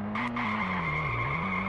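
A car skids out of control in a video game, its tires squealing in a steady high-pitched wail over a droning engine whose pitch rises and falls for under two seconds.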